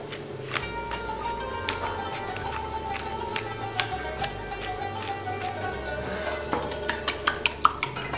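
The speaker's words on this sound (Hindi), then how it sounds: "दो अंडे लिए, उनको बीट कर लेंगे।" Two eggs being beaten with salt and black pepper, a utensil clinking rapidly against a bowl in a steady irregular rhythm, close and clear with no talking.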